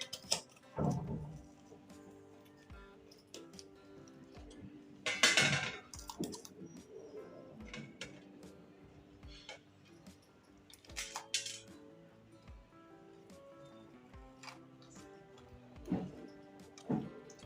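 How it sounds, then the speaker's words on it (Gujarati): A knife slices through large capsicum (shimla mirch) on a cutting board in a home kitchen, giving scattered, irregular taps and crisp cuts, moderately quiet and close, with brief louder bursts of handling in between. "તો આપણે પહેલાં સિમલા મરચાંને કાપી નાખશું"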